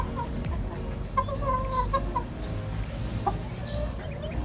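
A Sweater line gamefowl rooster gives soft, repeated clucks close by, in short scattered bursts over steady background noise.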